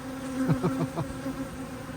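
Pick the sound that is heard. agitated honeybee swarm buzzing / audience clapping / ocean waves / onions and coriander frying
agitated honeybee swarm buzzing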